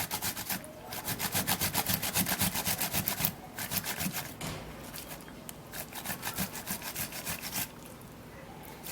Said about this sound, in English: I'm going to be grating the tomato.